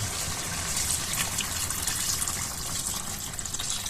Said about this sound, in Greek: θα προσθέσουμε νερό